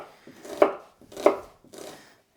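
Onions being chopped with a knife on a board, three separate cuts in slow, even succession, close and fairly loud, with no other sound around them.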